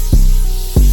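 Morphe Continuous Setting Spray misted onto a made-up face: a steady, close, loud hiss runs throughout, with two sharper bursts as the pump is pressed.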